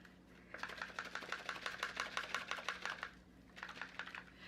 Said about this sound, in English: And then we'll just shake it up using our blender cup.